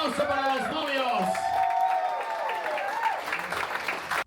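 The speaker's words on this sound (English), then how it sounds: "big round of applause for Colin and Jessica" Guests at a wedding reception applaud the newlyweds in a sustained burst of clapping, with voices and cheers audible over the crowd throughout.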